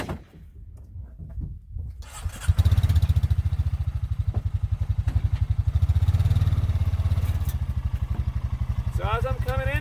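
A Honda quad ATV engine runs steadily while riding, a loud close pulsing drone with a throttle rise after a brief quieter start with clatter, holding a rhythmic engine thrum to the end.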